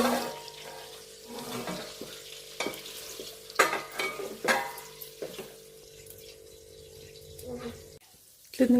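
Amla chutney simmers on a low flame while a spoon stirs it in a pan, with irregular scraping and clinking strokes over a faint bubbling sizzle, then a short pause near the end.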